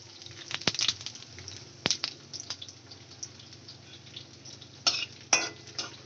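Dried red chillies, a bay leaf and whole cumin fry in hot oil over a low flame, with a soft continuous sizzle broken by sharp spatula clicks and stirring bursts.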